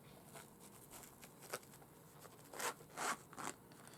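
A zipper on a rifle case is pulled open in several short rasping strokes. The strokes come closer together and grow louder toward the end, close up in a quiet room.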